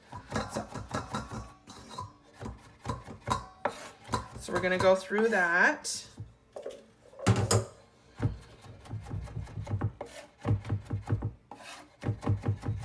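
A knife minces garlic rapidly on a cutting board in uneven bursts of close, crisp taps, with someone speaking briefly in between.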